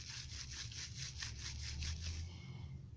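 Tea rose petals are rubbed by hand for fermented tea, making a rhythmic series of about ten soft, close scrubbing strokes over a low background hum.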